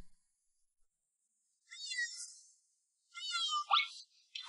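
A cat meows twice, close and clear, each call drawn out with a rising and falling pitch, separated by short silences and followed by a brief third sound at the end; no talking.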